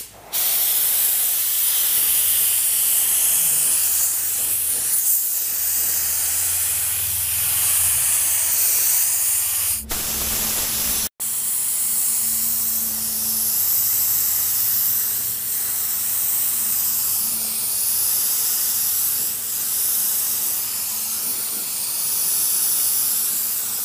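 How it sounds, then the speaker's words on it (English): Spray gun laying a dust coat of clear over a car fender: a steady, loud, continuous hiss of atomized spray that runs almost unbroken, with one very short pause near the middle. "I'm gonna go ahead and lay down a dust coat of clear first"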